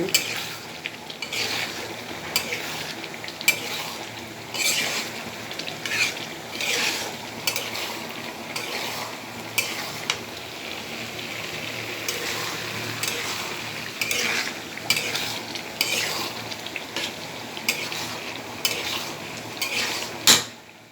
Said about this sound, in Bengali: ছোটো মাছ ভাজি করবো না, করে ফেলছি।